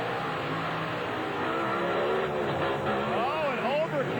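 A big black Hemi-powered Dodge Rampage pulling truck roars hard at a 1996 truck and tractor pull in Springfield, Missouri, the engine a dense, loud, sustained blare with crowd noise around it.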